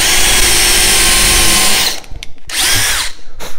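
A DeWalt compact drill/driver bores into a wood piece, its motor whining loud and steady for about two seconds, then stopping, followed by a few short bursts as the bit is pulsed and eased out.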